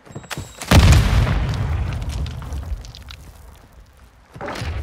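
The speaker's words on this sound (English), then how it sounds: "Throwing grenade!" A grenade explodes in the video game Call of Duty: Modern Warfare, one heavy booming blast that rumbles and fades over a few seconds before another sharp impact follows.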